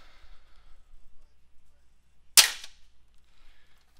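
A single sharp pop from a modified Longshot foam dart blaster, a loud, brief crack in the middle of an otherwise quiet room with faint background hum.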